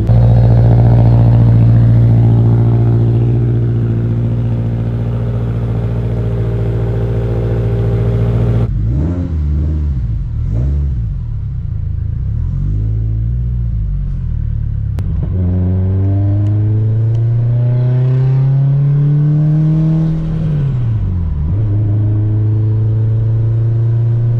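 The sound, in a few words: Subaru STi car engine while driving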